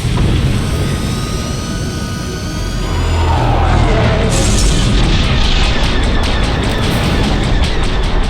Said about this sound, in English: Bombers incoming!